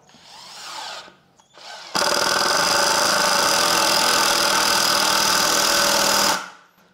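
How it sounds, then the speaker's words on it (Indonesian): An INGCO cordless impact driver drives a 2-inch screw into wood with one loud, close, continuous rattling hammer burst lasting about four seconds. It is preceded by brief quieter handling sounds. "Ini kita coba sekrup 2 inci ya ke kayu, kira-kira seperti apa feelsnya."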